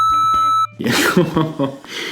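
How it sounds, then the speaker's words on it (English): A censor beep on a live talk show: a steady electronic tone with a sharp tonal line lasts just over half a second, cut off abruptly, then people talk straight after. "You might have to beep this"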